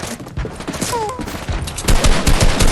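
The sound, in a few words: gunfire shooting at the player in a video game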